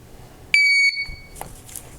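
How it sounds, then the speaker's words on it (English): A GZAIR SA103 portable carbon monoxide detector gives one loud, sharp electronic beep lasting about a third of a second, then falls quiet against low background hum. "every time you do something on this thing, it seems to beep quite loudly"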